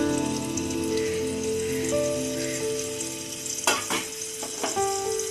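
Potato pieces frying in a pan give off a steady sizzle throughout, with a few sharper stirring scrapes and clatters near the end.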